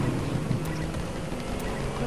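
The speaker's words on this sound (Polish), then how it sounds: "Po co komu woda, skoro można motorówką jeździć po lądzie?" A video game motorboat driven across dry land, its steady engine drone humming continuously with a low tonal whine beneath broad wind-like noise, no speech.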